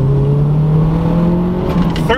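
A turbocharged project car's engine is held at high revs, hitting boost cut at about 13.5 psi. The loud, steady drone and whine continue throughout, with a faint rattle near the end.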